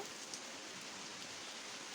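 Steady rain pours down outside a house during a festival-day morning, a soft, even hiss of falling drops with no talk, continuous and fairly quiet throughout.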